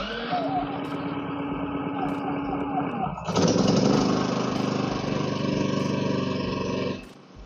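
A Philking 4200 inverter generator drones steadily nearby, its engine note jumping louder and rougher midway as the load changes, then cutting off abruptly near the end, with a voice speaking over it.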